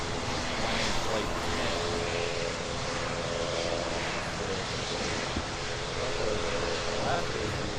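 Alaska Airlines jet departing Honolulu airport on a windy day, a steady broadband engine roar that holds at constant loudness throughout, with faint voices underneath.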